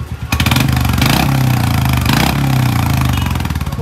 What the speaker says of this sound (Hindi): एग्जॉस्ट नंबर 3 की आवाज बढ़ गया मैडम